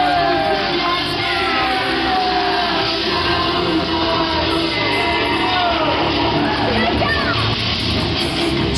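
A wrestling event crowd at BTPW's Cruel Summers show in Morehead, Kentucky, roars steadily for the whole stretch, with scattered shouts, whoops and cheering layered over a dense, loud arena din.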